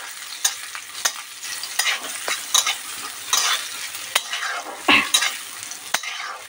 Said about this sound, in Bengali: এবার এটাকে নেড়ে একটু লাল লাল করে নেব।